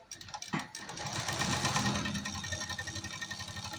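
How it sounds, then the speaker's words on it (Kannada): A sewing machine stitching cloth runs close by with a rapid, steady mechanical chatter of needle strokes, starting after a brief knock and continuing evenly. "ಈ ಬಟ್ಟೆನ ನಿಮಗೆ ಹೊಲಿಗೆ ಹಾಕಿ ತೋರಿಸ್ಲಿಕ್ಕೆ ಅಂತ ತಗೊಂಡಿದ್ದೀನಿ"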